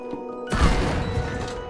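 A game explosion bursts in suddenly after a quiet moment, a loud broadband blast that holds as a rumbling, crackling tail.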